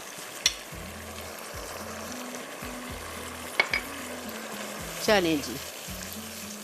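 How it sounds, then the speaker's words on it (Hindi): Fish sizzling steadily in hot oil during its second frying for Schezwan sticky fish, a continuous crackling hiss with a few sharp clinks, while someone talks over it. "अब इसमें जा रही है ये फ़िश। फ़िश को लाजमी आपको डबल फ्राई करना है।"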